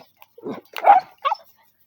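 A puppy seeing other dogs for the first time lets out a few short, close yips and whimpery barks in quick uneven bursts, with no talking.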